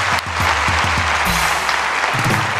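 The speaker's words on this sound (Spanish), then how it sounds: "Un aplauso para Antonio." Loud, sustained applause from an audience, dense clapping throughout at close range.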